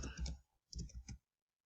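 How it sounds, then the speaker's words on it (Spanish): A computer mouse being used in AutoCAD gives quiet, close clicks in two short clusters separated by a brief pause, followed by silence. "Esta la edito con un doble clic"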